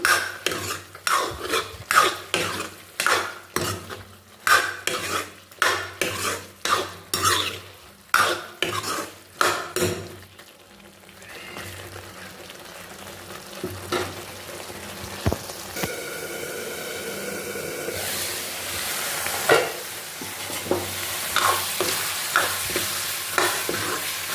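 Soybean chunks and boiled potatoes stirred in a pan, a rapid series of sharp spatula scrapes and clinks against the pan over the first ten seconds, then a steady soft sizzle of frying with occasional light knocks.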